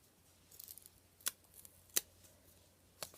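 Sticker sheet being torn, with three or four short, sharp rips standing out clearly against an otherwise quiet room, no talking.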